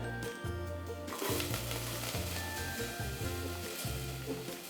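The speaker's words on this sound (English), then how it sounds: "I'm just going to add a bit of oil here. This is already heated up, and of course we are going to add garlic and ginger," Garlic and ginger frying in already heated oil in a pot, a steady close sizzle that swells louder after the first second, with low bubbling underneath and no talk.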